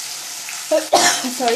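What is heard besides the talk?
onion frying in oil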